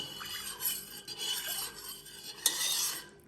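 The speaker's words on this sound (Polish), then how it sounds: "no mieszam" Spoon stirring homemade liqueur in a pot, soft scraping and swishing strokes that come and go at close range, with one brighter clink near the end.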